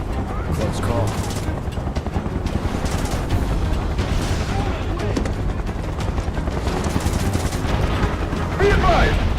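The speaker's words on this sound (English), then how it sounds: "Open fire! Shoot to kill!" Soldiers fire guns in the video game Final Fantasy VII Remake: sustained bursts of automatic gunfire with rattling shots and booms, steady and loud for the whole stretch over a dense game soundscape, louder toward the end.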